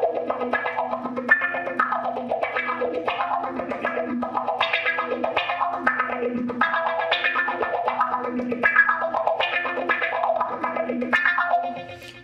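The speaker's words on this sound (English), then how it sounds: "I'll throw the envelope filter in there as well." Electric guitar riff from a song played through an envelope filter and delay, giving a bouncy, wah-like sweep on each repeating note over a steady rhythm.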